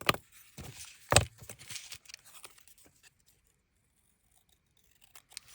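Scissors snip through decorated paper charms in a few quick, close cuts with paper rustling, then the workspace falls nearly silent apart from a faint click at the end.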